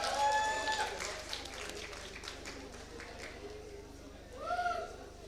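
Audience applause for the yearbook team at a college commencement ceremony, a steady wash of clapping and crowd chatter filling a hall, with tonal music or announcement sounds at the start and near the end.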